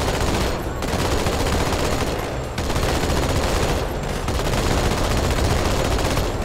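Sustained, dense gunfire in Halo 2 Anniversary hammers a vehicle, loud, rapid and continuous, with only brief dips in the barrage.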